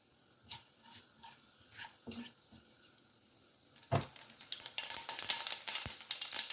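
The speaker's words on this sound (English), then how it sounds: "Heat a tablespoon of oil in a deep pan. Temper with mustard seeds, half teaspoon, and half teaspoon of cumin seed or jeera." Mustard and cumin seeds hit hot oil in a deep pan, starting with a few quiet knocks, then bursting into a bright, crackling sizzle with rapid popping that grows louder toward the end.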